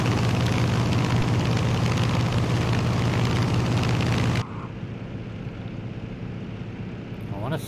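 A loud, steady propeller engine roar from an F6F Hellcat fighter in Microsoft Flight Simulator drones with a low hum during a low flyby of Alcatraz, then cuts abruptly to a quieter rumble partway through.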